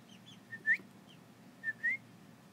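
Chickens in their coop on a small chicken farm give a few soft, high whistling peeps, two brief rising calls standing out against a quiet background.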